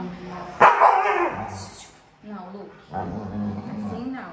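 A jealous small dog barks and yips in a few sharp bursts, loudest near the start, mixed in with ongoing talk from a person nearby.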